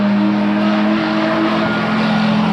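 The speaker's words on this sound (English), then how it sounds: "Let Mr. Aerial Paths lead the way in that Hachiroku Corolla, powered by a Nissan 350Z motor" A Hachiroku Corolla drift car running a Nissan 350Z engine holds a loud, steady engine drone at a drift event, with racing-car tone throughout and no pauses.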